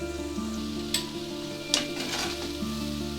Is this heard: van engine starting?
no